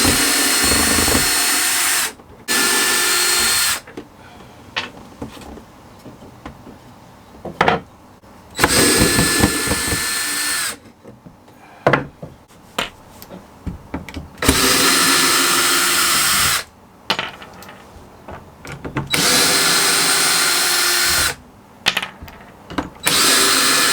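A power sander grinds over wooden boards covered in foam and stapled fabric, running loud and close in repeated bursts of several seconds separated by short pauses.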